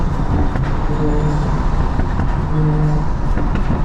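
A 500-horsepower built 435 car cruising down a highway, its steady engine and road rumble running continuously without any talk, with faint tonal whine rising twice.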